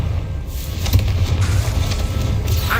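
A Confringo blasting spell goes off in the Hogwarts Legacy video game, a low rumbling blast with sustained booming energy across the whole moment, fairly loud and steady, with no voices.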